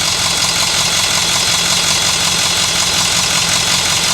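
A broken $1200 diesel bus, left sitting for five months, runs on fast idle with a loud, steady, close-up engine drone that holds unbroken throughout.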